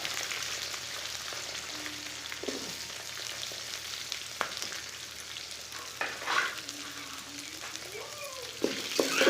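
Green chillies and onions sautéing in a pan, a steady soft sizzle with occasional stirring scrapes and clicks, with faint background voices or sounds in places.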